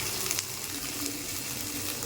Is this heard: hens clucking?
no